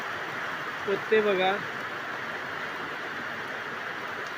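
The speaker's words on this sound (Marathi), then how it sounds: "पावसाळ्यासारखा पाऊस मोठा केवढ्या मोठ्याने पडतोय बघा" Heavy pre-monsoon rain falls on a hillside village settlement, an even, continuous hiss, while someone briefly speaks over it.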